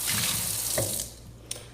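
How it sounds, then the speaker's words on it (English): Running tap water splashes steadily into a cold brew coffee pitcher being rinsed in a kitchen sink, a close, hissy rush that thins out near the end, with a small knock just after. "I'm going to rinse this out"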